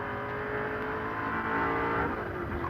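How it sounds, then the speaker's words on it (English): The big V8 of a Falcon race car in the 1984 Great Race, a continuous, deep, throaty roar at high revs, loud and close throughout with no pauses. "listen to that deep-throated roar of the engine. The big V8 as he sets out in pursuit of Moffat"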